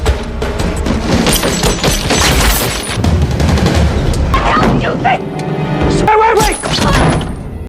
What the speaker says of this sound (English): When Robert and Miguel finally confronted each other, they exchanged gunfire